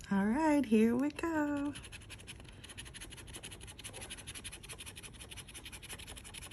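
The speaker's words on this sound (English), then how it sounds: "I'm gonna scratch these as fast as I can." Florida Gold Rush Limited lottery scratch-off tickets scraped in rapid, rhythmic strokes close up, continuing steadily after a brief spoken bit at the start.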